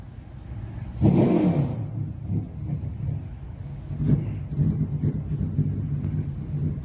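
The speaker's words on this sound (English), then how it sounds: "There you hear some of the engines fired" ARCA Menards Series race car engines fire up and rumble in the distance at Toledo Speedway, a low throaty roar that swells and settles with a few louder bursts.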